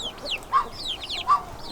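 Chickens and baby chicks cluck softly in short bursts, with a couple of clearer clucks standing out against a quiet garden farmyard background.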